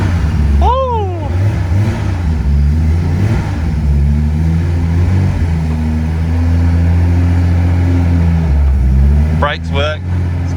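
A Datsun 280ZX with an L28 turbo engine idles unevenly on its first drive, a steady low droning note that rises and sags slightly throughout, close and loud, with people talking briefly near the start and end.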